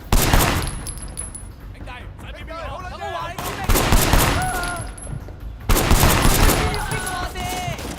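Gunfire in a shooting video game: loud bursts of rapid shots in three waves, each dropping to a lower, busier rattle, with a voice talking in between the volleys.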